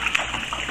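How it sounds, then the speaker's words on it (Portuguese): A short trickling pour of 100 ml of 46-degree alcohol into a concentrated liquid soap base, heard close and fairly quiet for under a second. "Agora aqui eu vou colocar 100 ml de álcool."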